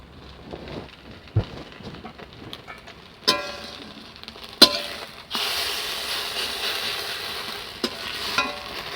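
Ground lentil fritters frying in a pan, a quiet crackle punctuated by a few sharp clacks as they are turned, then a louder steady sizzle in the last few seconds.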